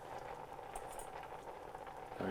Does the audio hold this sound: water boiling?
yes